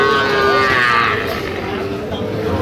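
Young Sahiwal bull calves, about five months old, at a cattle market; a calf lets out a moo, sustained and moderately close, over a background of market chatter.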